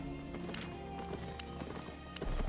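Video game horse riding in a PvP action game, a rhythmic clip-clop of hooves repeating steadily over constant game background sound.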